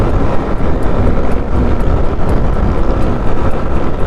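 A loud, steady motorcycle engine drone while riding, buffeted by heavy wind rush, continuous throughout with no talking.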